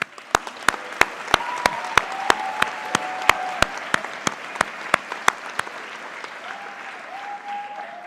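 Brisk, regular clapping fills a university pharmacy school's white coat ceremony, sharp, close beats over a murmuring audience, with faint tonal sounds drifting underneath before the claps end near the close.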